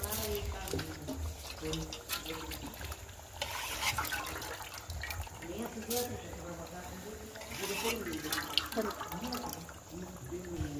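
Water sloshes and splashes steadily as rice grains are swished and rinsed, while a person talks over it.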